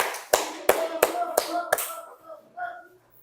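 A few sharp hand claps in a loose rhythm, about five in quick succession, in a primary school classroom, then a voice speaking briefly in Indonesian as they fade.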